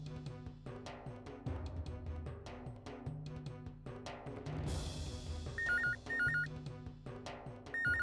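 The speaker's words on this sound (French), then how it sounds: "oui, c'est le téléphone, décroche" A telephone rings in a home within a French-dubbed Indian drama series, a repeating electronic ring pattern heard over continuous background music.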